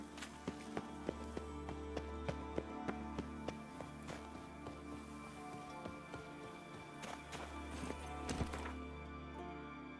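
Roach, a horse in The Witcher 3, gallops with a steady clip-clop of hooves running under a game soundtrack, with brief sharper impacts scattered throughout.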